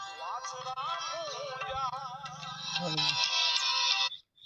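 A phone ringtone plays a warbling electronic melody, loud and continuous for about four seconds before cutting off.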